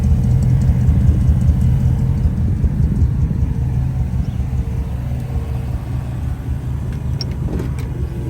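Low exhaust rumble from a 1954 Mercury Monterey two-door hardtop idling steadily, dense and continuous at close range with no talk.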